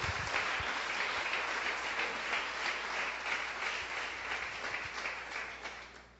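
A church congregation claps and applauds steadily for several seconds, a dense wash of hand claps that slowly fades toward the end.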